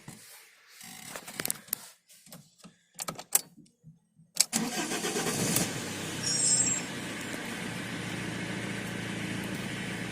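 A few clicks and clunks, then a Fiat Doblo engine cranks and catches around the midpoint, settling into a steady close idle.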